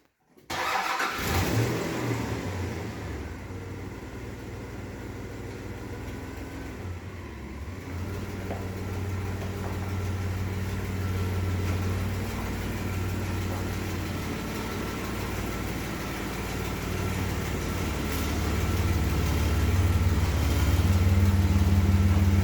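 Engine of a 1997 Dodge Dakota truck starting and idling, then rumbling louder as it pulls into a garage, a steady close drone for over twenty seconds with no speech.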